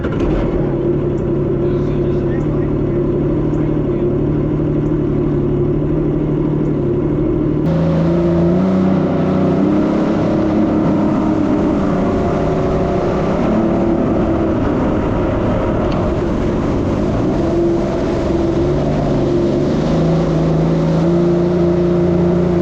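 Yamaha Superjet stand-up jet ski engine running under throttle, a loud steady droning roar with a pitch shift partway through as power increases, sustained throughout.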